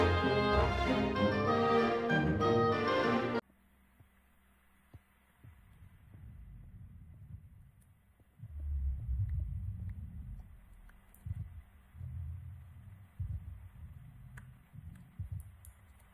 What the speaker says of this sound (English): That is the sound of the warden.